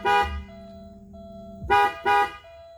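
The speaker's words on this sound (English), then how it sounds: "The horn still honks." A Porsche 944 car horn honks three times up close, one long blast then two short ones in quick succession, with a faint electronic tone between.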